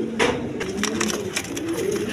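Fresh pigeons offered for sale coo steadily and close by, a low throaty burbling that runs through the whole moment with no voices over it.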